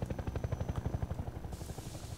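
A helicopter in Half-Life 2 chops its rotor in a fast, steady rhythmic thumping, moderately loud, with a faint high whine and no talking.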